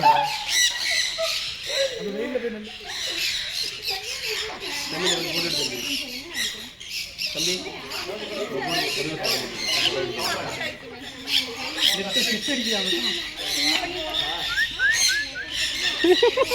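Shrill bird squawks and chatters repeat continuously, close and lively, mixed with voices talking underneath, at a bird park near Thanjavur's Brihadeeswara Temple.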